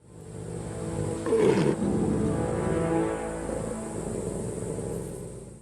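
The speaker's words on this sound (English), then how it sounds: "the fight between the wolf and the German Shepherd" A wolf fighting a German Shepherd dog, snarling and roaring growls rising to a loud burst early, then continuing as a rough, sustained rumbling snarl, close and alone.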